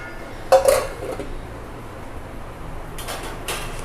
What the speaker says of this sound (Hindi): अभी हम इसको अच्छे से ढककर एक उबाल आने देंगे।